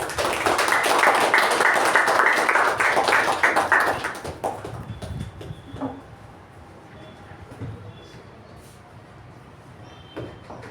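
A Toastmasters meeting audience gives a welcoming round of applause, dense and fairly loud for about four seconds before fading out, followed by quieter room sounds and a speaker beginning to talk.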